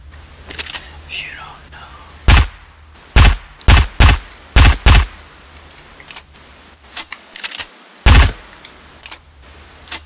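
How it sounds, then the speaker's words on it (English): An unsuppressed MP5-style submachine gun fires in Fortnite, a series of loud, sharp, separate shots and short bursts spaced irregularly over quieter background game sound. "I wish this thing was suppressed. This is the MP5 pretty much."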